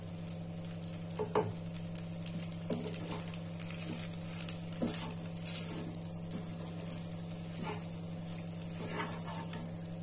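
Cooked macaroni being stir-fried in a pan for Indian-style macaroni, a steady sizzle under a constant low kitchen hum, with repeated scraping and clinking stirs at irregular intervals throughout.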